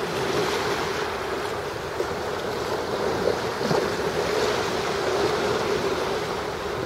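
River current surging outward to meet the tide at Tin Can Beach, a steady broad rush of churning water with wind buffeting the microphone, loud and unbroken throughout.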